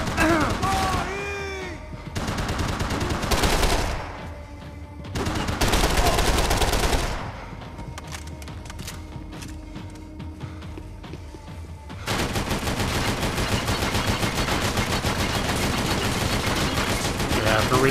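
Gunfire in the video game Max Payne 3 comes as dense bursts of rapid shots and sustained automatic fire, loud and close, broken by short quieter gaps and mixed with occasional shouting voices.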